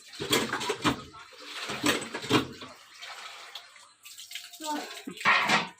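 Bata fish get washed in water with splashing and sloshing in uneven bursts close by, broken by brief pauses, while someone talks over part of it.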